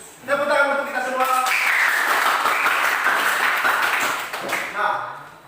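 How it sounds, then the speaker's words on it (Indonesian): A classroom group breaks into applause, a brief burst of many hands clapping together that swells and fades within a few seconds, with voices heard just before and after. "Tepuk tangan untuk kita semua."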